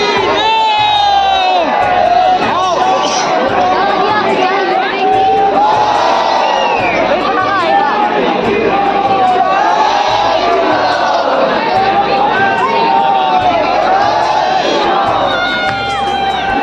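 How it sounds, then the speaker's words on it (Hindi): A huge crowd at a night-time Dussehra burning of Ravana effigies roars and chants in celebration, a loud, continuous wall of cheering and shouting voices over a steady pulsing beat. "बहुत समय से इंतजार कर रहे लोगों की भीड़ ने इस दृश्य को बड़े उत्साह और रोमांच के साथ राम जी की जय जयकार करते हुए आनंद उठाया"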